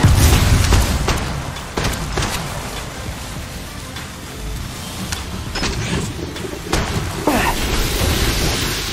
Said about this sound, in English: Thermite grenade!